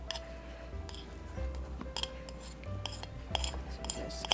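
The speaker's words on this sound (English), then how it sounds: "So just mix it in." Chopped butter is worked into flour, sugar and salt in a bowl, giving quiet, scattered utensil clinks and scrapes over a low background hum.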